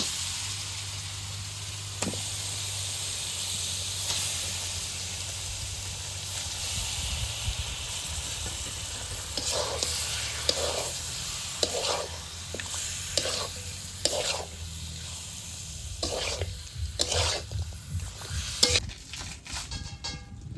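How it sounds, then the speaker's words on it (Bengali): Duck meat is added to fried spices in a pot as part of a home curry cooked with coconut. A steady sizzle and hiss runs throughout, then repeated scraping stirs grow louder and more frequent toward the end. "মশলা কষানো হয়ে গেছে, এখন মাংস দিয়ে দিই।"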